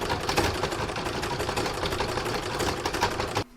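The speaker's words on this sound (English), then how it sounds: "pop this back in my machine and start doing the decorative top stitching as before" A sewing machine runs steadily, doing decorative top stitching in gold thread on a single-fabric Christmas star, a loud, close, continuous mechanical whirr that stops abruptly near the end.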